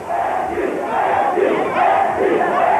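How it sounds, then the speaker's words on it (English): A jeering crowd of protesters drowning out a speaker, a dense roar of many shouting voices surging and swelling continuously at close range. "When de Klerk tried to speak, he was drowned out by jeering crowds."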